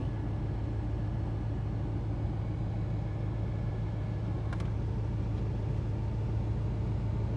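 Inside a 1988 Chevrolet Monte Carlo SS, the air conditioning blows with a constant, even whoosh over a low idling rumble, holding steady from start to finish without any talk.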